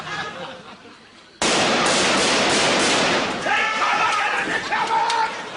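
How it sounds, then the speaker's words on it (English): Gunfire aimed at soldiers: a sudden loud burst of sharp cracks and bangs kicks in after a quiet moment and carries on densely, with shouted voices breaking through the din. "They're shooting us! Somebody's shooting us!"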